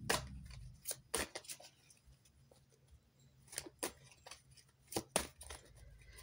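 Oracle cards for a tarot-style reading being shuffled and handled, giving a few sharp, brief riffles and snaps at uneven intervals over a quiet room.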